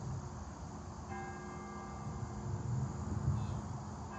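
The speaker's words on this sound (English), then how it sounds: "And I hear the bells" Bells ring outdoors at a distance during an outdoor yoga session on a field, faint tones drifting over a steady bed of cricket and insect chirping, with no talking.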